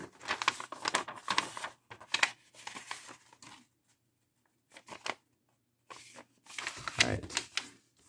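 Paper being folded into a square waterbomb, with crisp crinkling and creasing bursts in irregular clusters, close and fairly loud, separated by short quiet gaps; a voice talks at points between the folds.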